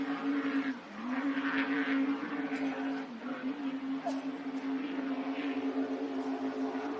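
Offshore racing powerboat engines roar with a sustained droning whine, wavering slightly in pitch as they run hard during a race on the Gold Coast, steady and fairly loud throughout.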